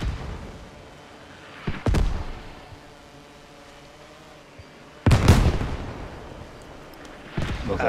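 Mortar fire and explosions in a war video game set in Ukraine, three heavy booming blasts spaced a few seconds apart, with a low rumble and quieter battle noise between them.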